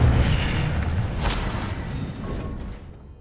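Fire spell blast in the Hogwarts Legacy video game, a loud booming burst with a crackling flare that rolls off into a fading rumble over about three seconds, no voices.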